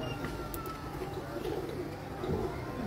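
Soft pigeon coos murmur steadily against a noisy, busy background, with faint scattered chirps and no clear speech.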